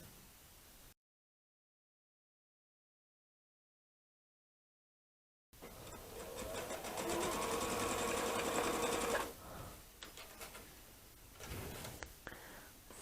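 Sewing machine stitching a quilt block runs in a steady, loud whirring burst of about four seconds after a stretch of silence, then slows into shorter stop-start runs.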